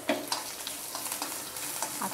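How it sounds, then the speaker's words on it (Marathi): Hot oil tempering of mustard seeds, cumin, sesame, asafoetida and curry leaves sizzles and crackles in a kadhai, a steady quiet frying hiss broken by small popping bursts, with no talk. "आता त्याच कढईमध्ये आपण फोडणी करून घेऊया।"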